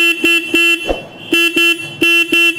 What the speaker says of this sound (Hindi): हॉर्न की आवाज़ काफ़ी ज़्यादा दमदार है।